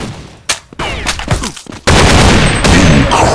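A THANATOS-5 weapon fires in Counter-Strike Online, a few sharp separate shots followed by a dense, loud sustained barrage of close automatic fire with game announcer voices.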